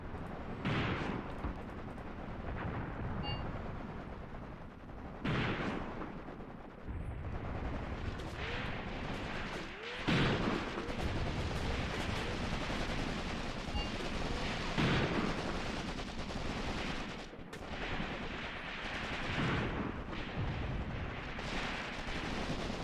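Dull booming mortar fire and other artillery in the WWII tactical game Graviteam Tactics: Mius Front, several heavy blasts rolling out over a continuous rumbling battle backdrop.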